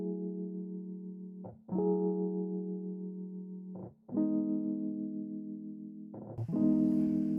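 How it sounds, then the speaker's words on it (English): Mellow sustained keyboard chords for a song verse, held tones changing every couple of seconds, soft and alone with no voices. "I needed to add like a keyboard to kind of mellow the song down"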